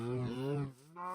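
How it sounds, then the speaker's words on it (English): Cows in a Minecraft-style survival game farm pen let out a long, loud, close moo with rich harmonic tone, then a short second moo, with no talk. "this is our cows. I fed them, but let's do some feeding here. They're gonna get loud."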